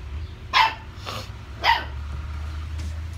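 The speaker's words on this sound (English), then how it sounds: "Little puppy is barking at daddy for eating out of his bowl." A little puppy barks at an adult dog eating from its bowl, giving two sharp, high yaps about a second apart with a fainter one between, close and clear over a quiet indoor hum.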